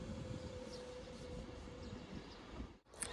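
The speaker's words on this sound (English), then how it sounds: "the train now arriving into platform 5 is the 1411 London North Western Railway service to Liverpool Lime Street" A train pulls into a platform at Stafford station, a steady rumbling roar with a faint tonal hum, quiet and continuous, briefly dropping away near the end before a short high squeal.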